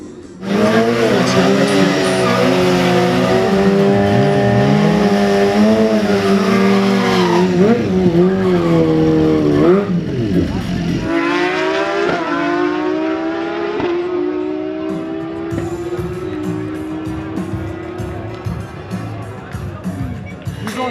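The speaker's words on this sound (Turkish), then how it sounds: "Euro Street makineleri Türkiye'deki en hızlı yarış motorları" Euro Street class drag-racing motorcycles at the Antalya Kepez motodrag championship roar loudly and continuously, engines rising and falling in pitch through hard acceleration and gear changes.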